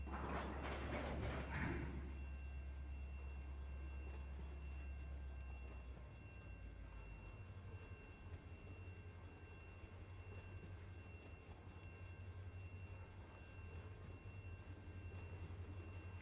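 Train cars in the Run 8 Train Simulator video game roll toward the bumper on a California local freight job, giving a low steady rumble with mechanical rattling after a brief louder burst at the start.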